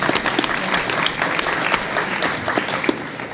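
An audience applauds at a live idea-challenge finals event, a dense, steady burst of clapping from a crowd filling the room, close and loud throughout.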